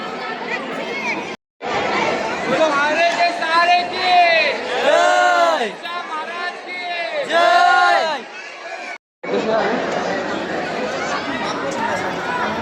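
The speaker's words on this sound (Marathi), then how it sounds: "गर्दी बघा किती आहे गर्दी" Dense crowd chatter and shouting voices around the bathing tank of the Khatu Shyam temple, steady and close with a couple of brief breaks, with someone talking over the babble.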